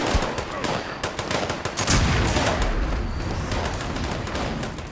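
An automated turret in Fallout 76 fires rapid bursts of gunfire, with a dense rattle of shots over loud, continuous combat noise and a heavier burst near the middle.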